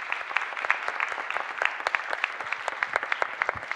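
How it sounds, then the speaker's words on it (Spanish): Audience at a university event on the war in Ukraine applauding a speaker, steady dense clapping from a modest crowd at moderate distance, with no talk over it. "Así que, bueno, un aplauso."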